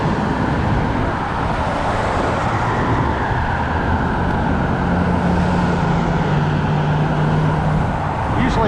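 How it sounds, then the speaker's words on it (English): Steady road traffic roars continuously alongside a cyclist riding on the road shoulder, with passing cars blending into a loud, dense wash of engine and tire noise and no talking. "So now I'm on the sloppy side of the road with lots of car noise."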